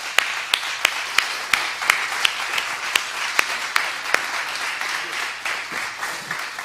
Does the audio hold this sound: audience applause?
yes